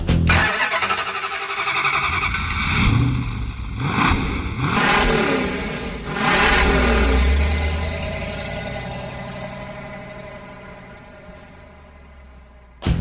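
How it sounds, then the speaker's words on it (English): A 707-horsepower supercharged Hellcat engine in a 1970 Plymouth Superbird fires up and revs loudly in several surges, then settles into a fading idle before cutting off. "we put a 707 horsepower supercharged HELLCAT engine in our Superbird, and it is crazy."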